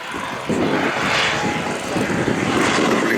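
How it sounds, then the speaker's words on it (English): Large-scale model propeller planes with 85cc two-stroke engines fly past at a model flying event, a steady loud buzzing drone that swells as they pass close along the flight line, with no talk. "85cc two-stroke engines."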